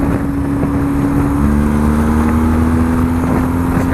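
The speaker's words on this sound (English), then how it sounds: "So, evidently the bike is plenty strong and running just fine. It's just BMW noises." A BMW motorcycle engine drones steadily while the bike is ridden, loud and continuous with wind rush and no change in pitch.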